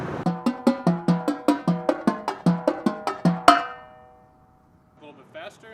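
Pitched marching tenor drums play a slow, under-tempo bar of 16th-note sweeps, with evenly spaced, ringing tonal strokes moving across the drums that end in an accented hit and fade, followed by a brief faint voice.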